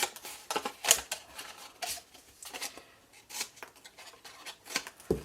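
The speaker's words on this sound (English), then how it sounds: "Oh, actually, you do need to cut a little wedge off there as well." Scissors cutting a small wedge off paper card while making a stamped gift box, a run of quiet crisp snips and paper rustles, close and faint, with no talking.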